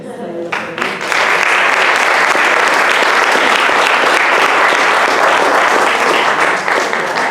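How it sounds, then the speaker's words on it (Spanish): Audience applause breaks out after a brief opening and carries on as dense, steady clapping from a full room, loud and unbroken to the end, with faint voices mixed in. "Si les podemos dar un abrazo y un aplauso."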